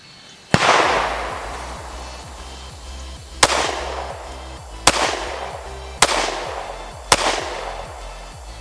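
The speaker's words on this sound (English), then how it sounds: "we're just gonna shoot this thing" A Springfield Hellcat pistol is fired at a target about 5 yards away on a range, with five loud, sharp shots at irregular intervals, each followed by a brief ringing decay.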